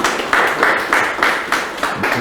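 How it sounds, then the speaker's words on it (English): A group of listeners at a trading-stories session claps in unison, a steady rhythmic beat of about seven sharp claps over two seconds, close and fairly loud. "Please, let's give them a round of applause, please."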